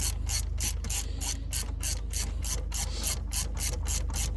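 A ratchet tightens spark plugs with crush washers on a 2008 Nissan Murano. It gives a fast, even run of loud, close metallic clicks, heard alone.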